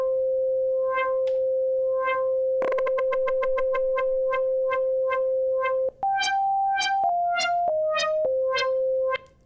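A steady FM synth tone from a Yamaha DX21 pulses rhythmically under LFO modulation, the pulsing speeding up, then the pitch steps down in several stages.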